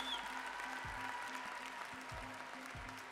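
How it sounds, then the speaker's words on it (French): Audience applause at a breakdance battle, a quarter-final at Break The Floor 2023, heard as a faint steady wash of clapping under a repeating thumping music beat. "Ça s'applaudit bien fort s'il vous plaît mesdames et messieurs."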